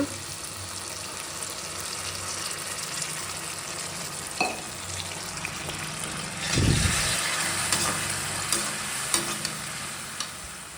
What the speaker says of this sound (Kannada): ನೋಡಿ, ಬದನೆಕಾಯಿ ಬೇಯ್ತಾ ಇದೆ.